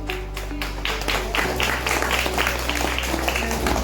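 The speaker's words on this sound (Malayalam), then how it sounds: "എല്ലാവരും കൈയടിച്ച് പ്രോത്സാഹിപ്പിക്കുകയൊക്കെ ചെയ്യാം" An audience claps together at a temple event, dense rhythmic applause that builds after a second and continues steadily to the end over a low steady hum.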